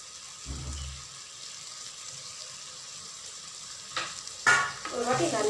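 Coriander leaves and stems sauté with tomatoes in a pan, giving a faint steady sizzle with a brief stir near the start and clattering stirring and scraping toward the end.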